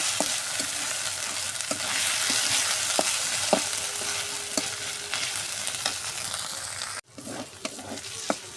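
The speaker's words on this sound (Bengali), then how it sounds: "এখন আদা রসুন বাটাটা আমি পেঁয়াজের সাথে আটকে সুন্দর করে ভাজা ভাজা করে নেব।" Ginger-garlic paste frying with onions in a pan makes a continuous close sizzle, punctuated by regular scraping and tapping strokes of a spatula stirring, with a brief cutout near the end.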